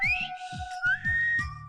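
Wavering, gliding whistle forced through the gap left by a pulled tooth, heard in a Malayalam comedy film scene, sounding in short repeated bursts with soft low thuds underneath.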